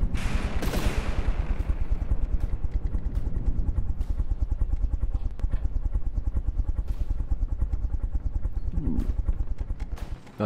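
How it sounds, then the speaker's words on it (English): In the game From the Depths, rapid automatic gunfire rattles almost nonstop over a heavy mechanical drone, with a few louder explosion booms standing out from the clatter. "Another good explosion."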